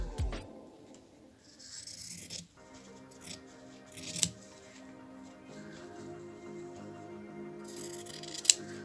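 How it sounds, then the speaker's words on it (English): Scissors snipping through paper, with a few crisp cuts spaced out between quieter rustling and handling noises at low volume. "so I'll just use my scissors"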